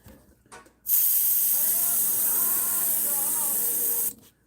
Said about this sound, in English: And then throw a little bit of that in the airbrush,